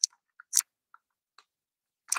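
Someone bites into a cheese snack and chews with sharp, crisp crunches in scattered bursts, close up and otherwise quiet, with no talking.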